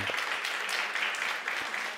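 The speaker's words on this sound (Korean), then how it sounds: "따뜻한 좀 격려의 박수를 좀 보내면 좋겠습니다" A church youth congregation offers warm applause of encouragement, a soft, steady wash of many hands clapping at a moderate distance for a couple of seconds.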